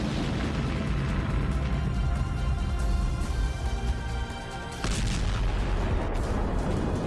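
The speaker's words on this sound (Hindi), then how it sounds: "अंदर लगी आग ने टैंक में रखे गोलों को भी एक्टिव कर दिया और फिर इसमें ऐसा धमाका हुआ।" Loud, sustained rumbling blasts and crackling bursts of tank shells exploding inside a burning Russian tank, with a brief dip midway before the roar resumes.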